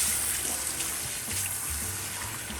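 Water runs steadily over hair at a salon shampoo sink during a rinse, a soft continuous trickling wash with low gurgles, fairly close and with no voices.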